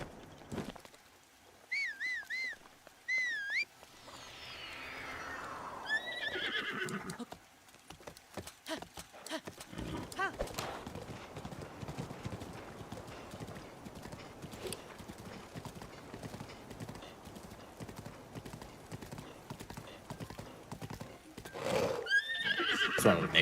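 Rhythmic clip-clop of horse hooves runs through, with a couple of whinnies early and late, plus game-like whooshes and effects.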